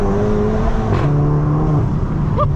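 A tuned VW Golf MK7 GTI with a Stage 2 Integrated Engineering tune accelerates hard, a loud, close engine roar climbing through the revs with a gear change midway, heard from inside the car.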